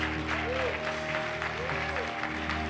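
A church congregation applauds in a continuous, even wash of clapping, blended with sustained musical tones and voices.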